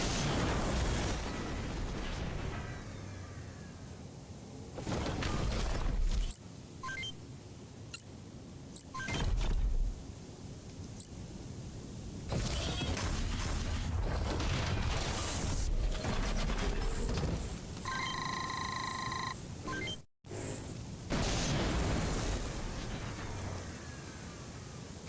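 Missile launches and explosions rumble through a Front Mission 1st mech battle, with repeated loud bursts and mechanical clatter separated by brief quieter gaps and a sharp cutoff near the end.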